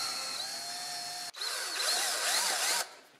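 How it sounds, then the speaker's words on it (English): A power drill whirs, then shifts to a louder, wavering high-pitched squeal as the bit grinds into a block of dry ice, stopping abruptly. "let's drill through this"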